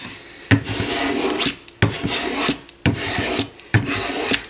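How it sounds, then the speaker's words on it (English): A veneer scraper is pushed firmly across fresh wood veneer on the side panel of a Pioneer SX-550 stereo receiver, making four or five rough rasping strokes with a knock at the start of each, close and fairly loud. "take my veneer scraper here and make sure I get the veneer down, right, nice and tight"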